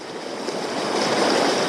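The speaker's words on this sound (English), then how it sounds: "if you've got swift moving water like this" Swift river water rushes past nearby, a loud, continuous broadband gush that builds slightly over a couple of seconds with no voices.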